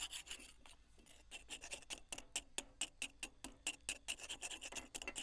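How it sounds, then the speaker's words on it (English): Repeated rasping scrapes of a tool clearing buildup off the steel bottom plate of a Split-Fire log splitter, close and steady, with quick rhythmic strokes and no talking. "scrape it off as best as you can."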